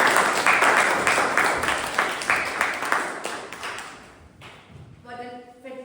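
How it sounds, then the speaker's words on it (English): An audience at a Toastmasters club meeting applauds the club president, a dense wash of clapping that gradually fades out, followed by a brief ringing tone at the end. "A big round of applause for the President."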